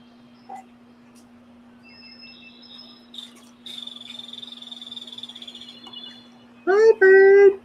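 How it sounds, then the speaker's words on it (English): Loud calls from a bird outside, a sharp chirp followed by a sustained buzzing trill and then two strong, piercing bursts close by, over a steady low hum. "What you doing out there? Being all loud and stuff."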